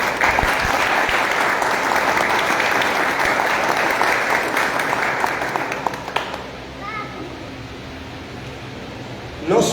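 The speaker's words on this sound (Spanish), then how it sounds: "En memoria de tío Orlando, pido para sus hijos también aquí un fuerte aplauso." Audience applause at a book launch in Mompox, loud and dense clapping that fills most of the span, then thins out and fades to scattered claps and room hush near the end.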